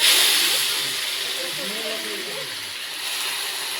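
Vegetables including potatoes go into hot oil with spices in a home kitchen, giving a broad steady sizzling hiss that swells at the start and then settles, while someone talks faintly underneath.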